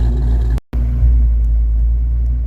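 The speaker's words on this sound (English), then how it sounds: "It's been idling for about 30 minutes, running great." A 1990s Ford Mustang idles steadily after a long warm-up, its engine giving a loud, even low rumble from the exhaust with one brief dropout near the start.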